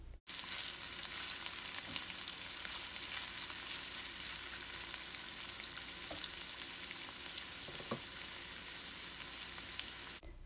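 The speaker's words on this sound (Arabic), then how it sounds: "ناخذ مقلاة غنوضعو فيها الزيت غادي نسخنوها وغادي نوضعو البصل والفلفل الملون" Onions and colored bell peppers fry in hot oil in a pan with a steady, close sizzle and crackle that runs unbroken with no voices.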